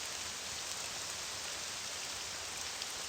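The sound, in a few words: downpour rain in the video game Morrowind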